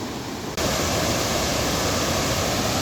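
The Narmada river pours over Dhuandhar falls at Bhedaghat near Jabalpur, a dense, steady roar of rushing water that fills the whole clip with no pause, loud and close.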